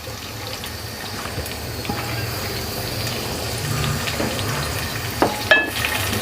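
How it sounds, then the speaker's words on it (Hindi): Two medium onions frying in half a cup of hot oil, a steady close sizzle and crackle with a few stirring clinks near the end, no talking. "इसको हम अब उस वक्त तक फ्राई करेंगे जब ये गोल्डन की तरफ जाना शुरू हो जाए"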